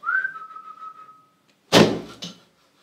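A person whistles one sustained, steady note that fades away, followed by a loud thump like a door closing.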